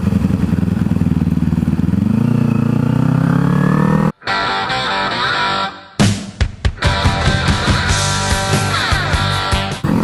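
A big motorcycle engine drones loudly and rises in pitch as it goes by, then the sound cuts abruptly into clattering, busier noise.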